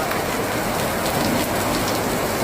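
Heavy rain pours steadily during overnight flooding in Hebei, northern China, a dense, continuous hiss of downpour drumming on surfaces, loud and unbroken with no voices.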